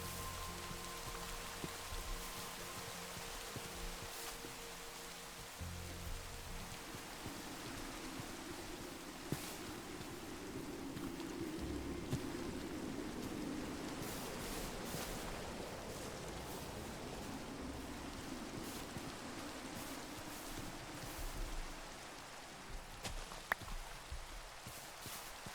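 Steady, soft rain hiss in Minecraft, a constant broadband patter running alone through the whole stretch with a faint low rumble underneath and a few brief game clicks.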